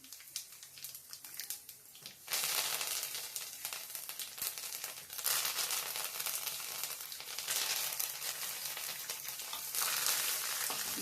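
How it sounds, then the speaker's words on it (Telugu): Loud, steady frying sizzle of spices crackling in hot oil, building in bursts, with faint clinks and stirring underneath and no talking. "పోపులు వేగాలి అలాగా"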